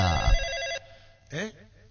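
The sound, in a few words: telephone ringing, radio sketch sound effect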